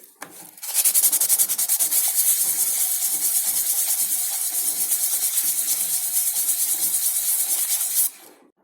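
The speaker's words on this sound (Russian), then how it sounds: "И немножко это место шлифануть." A metal part being hand-sanded to smooth a chamfered spot: fast, steady back-and-forth rasping strokes, close and loud, running for several seconds before stopping abruptly, no voices.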